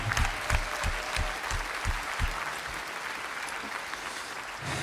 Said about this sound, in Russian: Давайте еще раз поаплодируем ему